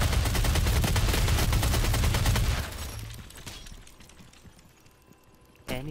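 Video-game gunfire comes in a dense, loud burst of rapid automatic shots that runs for a couple of seconds, then trails off into quieter rumbling, with a sharp blast at the end.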